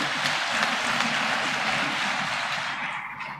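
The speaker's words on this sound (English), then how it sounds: "So please, let's give them a round of applause." A large audience gives a broad round of applause at a formal state address in Nigeria, a dense steady wash of many hands clapping that holds loud and even, then thins slightly toward the end.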